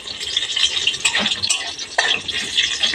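Garlic cloves and chilies fry in hot oil in a pan, giving a steady close crackling sizzle with a few scraping stirs, with no talking.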